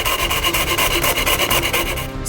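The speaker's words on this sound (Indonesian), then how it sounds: "Kami potong dengan gergaji tangan dari papan serat tipis." A hand saw rasps through thin fiberboard in quick, steady back-and-forth strokes, close and continuous, with no talking.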